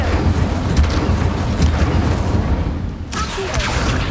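Fiery Incendio spell bursts in Hogwarts Legacy, a dense, continuous roaring rumble with crackling booms layered over a steady low-end thrum, loud and close, briefly dipping before swelling again.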